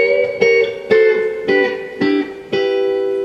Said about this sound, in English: I'm set up to do this pedal steel riff